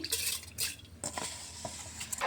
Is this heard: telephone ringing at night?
no